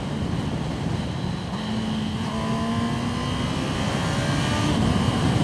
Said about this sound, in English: So I can kick it now down from 5th gear into 2nd.